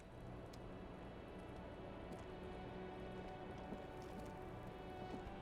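Steady rain pattering on surfaces in the Disco Elysium video game, a faint, even wash of drops with no voices, only soft irregular ticks.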